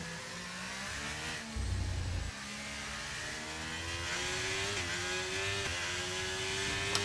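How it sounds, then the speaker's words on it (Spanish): A Formula 1 car engine in the racing game F1 24, Chinese Grand Prix circuit, whines steadily and climbs in pitch through the gears, with short shift dips and a low rumble, loud and continuous without talk. "aquí el Ferrari de Carlos nos va a pillar un poquito de rebufo"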